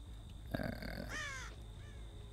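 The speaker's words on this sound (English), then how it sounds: "I just saw a bird fly over here." A single loud crow caw in the Dead by Daylight video game, a harsh, falling call in the middle of quiet ambient game sound, preceded by a soft thud and followed by a fainter trailing note.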